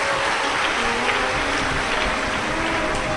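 Audience applause at a Shiv Mahapuran katha, a steady dense wash of clapping from a large crowd that holds at even loudness throughout.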